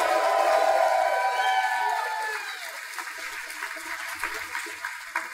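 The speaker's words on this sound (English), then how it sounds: "Thank you all for your kind applause." A banquet audience at a gaming convention bursts into loud, dense clapping and cheering that gradually thins out over several seconds.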